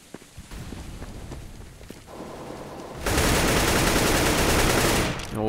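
AK rifle spray fire rattles in Counter-Strike on the de_cache map during a league match, with scattered shots and footsteps first, then a dense, loud, continuous burst of automatic fire.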